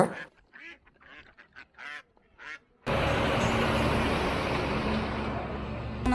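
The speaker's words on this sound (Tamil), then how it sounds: "வாத்துக்கறி வறுவல் செய்யறதுக்காக அக்கா இப்போ வாத்து பிடிச்சிட்டு இருக்காங்க" Ducks being caught for cooking quack in a few short nasal bursts close by, then a dense, steady outdoor wash of noise takes over with faint honks mixed in.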